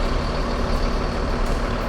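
Trucks and buses rumble and idle at the Cipulir vegetable market bus agency during morning departures, a loud, steady, close engine drone with no speech over it.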